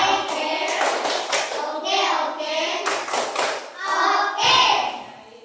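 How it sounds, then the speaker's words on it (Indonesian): A class of children claps together in a classroom in a patterned rhythm, loud and close, with children's voices mixed in. "Tepuk oke dulu untuk Miranda."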